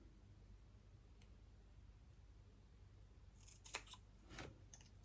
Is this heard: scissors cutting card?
yes